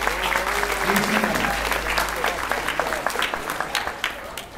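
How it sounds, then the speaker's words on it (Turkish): Dense applause from a crowd, steady clapping that gradually thins out toward the end, with voices faintly underneath. "Büyük bir alkış verelim inşallah."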